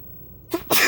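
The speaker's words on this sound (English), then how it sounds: "It's springtime right now, and I have been sneezing a lot today." A person sneezes during spring allergies, with a short sharp intake and then a loud explosive burst, close and alone with no talking.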